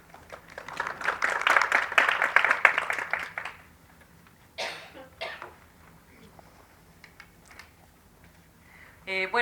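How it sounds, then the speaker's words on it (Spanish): Audience applause at an academic seminar panel on repetition and formative assessment, a dense burst of clapping that fades after a few seconds, followed by scattered coughs and small room noises. "Le damos un aplauso, gracias."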